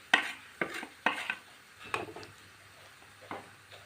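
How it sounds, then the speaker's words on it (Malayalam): Kashmiri chili powder is stirred and fried in hot oil for papaya pickle: a few distinct scraping, clinking strokes of a spoon against the pan, with a faint sizzle underneath. "നല്ലോണം നമുക്കൊന്ന് മൂപ്പിച്ചെടുക്കാം"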